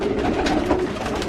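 Pumper pigeons coo steadily and fairly close in a loft, a low continuous burbling with no talk.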